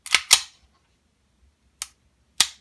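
An ASG CZ75 SP01 Shadow airsoft pistol gives four sharp, close trigger clicks: two fast ones, a pause, then two more spaced apart, in an otherwise quiet room.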